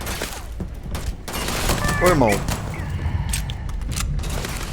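Gunfire rings out in the video game Starfield, a quick burst of shots and booms mixed with electronic game sounds, while someone talks over it.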